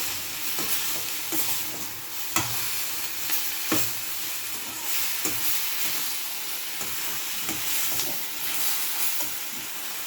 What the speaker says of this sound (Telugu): ఉప్పు వేసి కలబెట్టాలి. బాగా పచ్చివాసన పోయిన దాకా వేయించుకోవాలి.